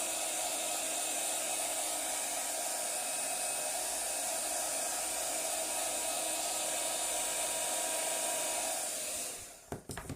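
A hair dryer blows over an ink-marbled card background, a close, steady rushing hum for about nine seconds before it clicks off with a few handling knocks.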